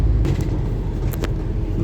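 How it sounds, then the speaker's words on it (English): Road traffic heard from inside a local bus in Halifax, a steady low engine and road rumble with a few faint passing-vehicle swishes. "A lot of traffic ahead."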